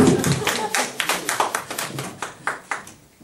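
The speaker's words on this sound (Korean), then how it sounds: "우리 뜨거운 박수로 맞이하겠습니다" A church congregation claps to welcome a speaker, a moderate run of individual hand claps, not very loud, with some overlapping voices, and the rhythm thins out toward the end.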